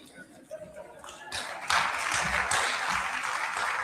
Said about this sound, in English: Another round of applause for Mr. Manuel Moses, CEO ATIDI.